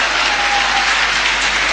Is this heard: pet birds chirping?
no